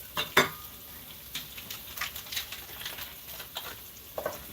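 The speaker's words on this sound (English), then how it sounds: "We're going to saute the onions and stuff and then the shrimp in butter." Onions sauteing in butter give soft, sparse crackles and pops, faint and close, with no voices.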